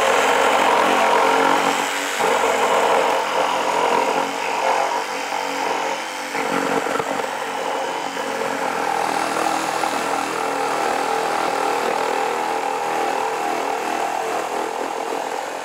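A Ryobi ONE+ HP 18V brushless compact one-handed reciprocating saw cuts through a fresh 2x4, its loud, buzzing motor and rapid blade stroke running continuously with slight shifts in pitch as it bites the wood.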